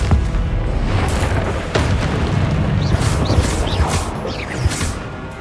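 A Confringo blasting spell explodes in the video game Hogwarts Legacy, giving loud, dense booms and crashes with whooshing magical effects layered over continuous rumbling game action.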